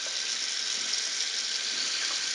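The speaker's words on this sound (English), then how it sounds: "We're going to pour that out." Water pours out in a steady, hissing splash, close and fairly loud, with no talking.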